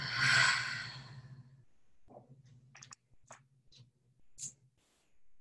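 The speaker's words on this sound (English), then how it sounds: "let's take a deep inhale in. And a big audible exhale out." A deep breath drawn in and then let out in a big, audible exhale, close and fairly loud at the start, followed by quiet small clicks and soft breathy sounds against a low background hum.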